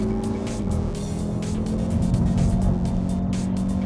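Racing car engine in a video game, steady loud high-revving drone with harmonic whine accelerating continuously, with tire noise, no talking.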